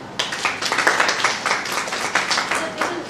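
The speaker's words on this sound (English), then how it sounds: "Big round of applause for Sri Kelkar sir." Audience claps for a guest speaker at the close of a talk, a moderately sized crowd giving a short, fairly loud round of applause with audible individual claps.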